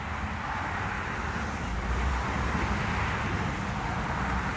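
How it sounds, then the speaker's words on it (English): Steady broadband traffic roar from a nearby road at night, a continuous rushing wash of passing vehicles heard from among massive trees, loud and unbroken throughout. "You hear this traffic?"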